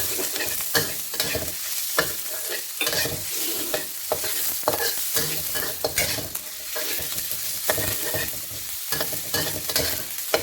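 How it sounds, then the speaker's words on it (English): Garlic and onion frying over medium heat in a pan, a loud steady sizzle with frequent stirring scrapes throughout, no voices. "So you want to fry them until they are fragrant and soft."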